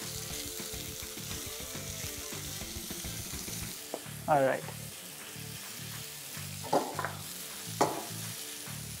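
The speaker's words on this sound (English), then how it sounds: "We're gonna fry it for like 2 to 3 minutes." Breaded chicken breast fillet, dusted with cornflour, pepper and salt, fries in a pan with a steady broad sizzle throughout, broken by a few louder clatters and pops from stirring, while a voice briefly speaks.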